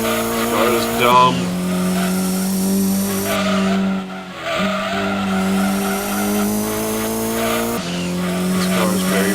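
Race car engine droning steadily with tires squealing and skidding in a Gran Turismo 2 video game race, loud and continuous, with a brief break midway.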